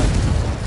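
In the Hogwarts Legacy video game, the Confringo spell goes off as a short, loud, booming explosion with a heavy low-end rumble.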